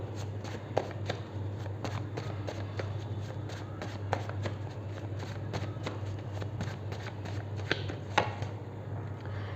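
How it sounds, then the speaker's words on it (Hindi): Tarot cards being shuffled and drawn during a reading: a run of soft, quick card flicks and riffles repeating over a steady low hum, with brief sharper snaps near the end and no talking. "और मैं थोड़े से कार्ड्स और लेना चाहूँगी"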